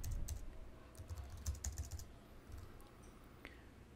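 Someone types on a computer keyboard, quiet irregular clicks and short bursts of keystrokes close by, with brief pauses between runs and no talking.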